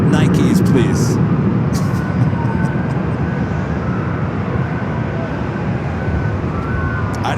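A JetBlue Airbus A321 airliner on flight 724 to JFK at Los Angeles International Airport gives off a steady, heavy broadband engine roar that lasts throughout, with a voice talking over it.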